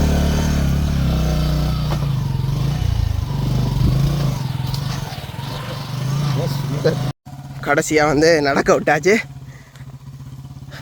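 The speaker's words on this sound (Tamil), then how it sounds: "பாரதி அண்ணா வந்து பைக் ஓடிக்கொண்டிருக்கிறார்." A motorbike ridden through forest in Nedunkeni drones with a loud steady engine note close by, rising and falling as it rides over rough ground, while someone talks over it.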